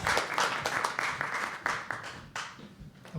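Audience applause at a live poetry open mic at The Habitat, a steady patter of many hands clapping with small surges, quite faint and fading slightly toward the end.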